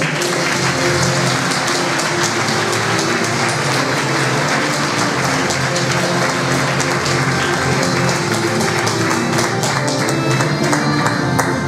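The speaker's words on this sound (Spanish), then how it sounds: "recibimos a Mariquiña como aplauso." Audience at a photography exhibition giving a sustained round of applause, thick and even clapping that continues throughout without any talk.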